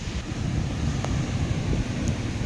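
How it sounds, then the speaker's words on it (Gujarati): Rough sea waves break on the shore on a hot, sunny day, a continuous low surging rumble with heavy wind buffeting the microphone and no voices. "જો આ દરિયો હે, દરિયો અટાણે બહુ મોજા મારે."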